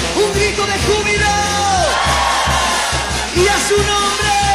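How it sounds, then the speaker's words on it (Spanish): A church congregation shouts and cheers for joy during a lively worship song with a band, a sustained loud crowd roar of yells and whoops over steady drums and music. "Un grito de júbilo."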